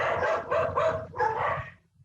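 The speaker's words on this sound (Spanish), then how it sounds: "mi perrito está aullando" A small pet dog indoors, close by, giving three drawn-out howling barks in quick succession, then going quiet.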